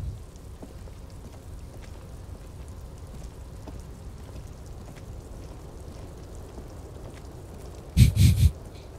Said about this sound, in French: Petit bruit de pluie